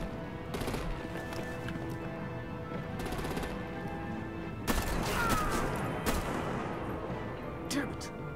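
Artillery gunfire rattles in the Batman Telltale Series Season II video game, with broadband bursts firing in clusters over a steady layer of game background sound and effects.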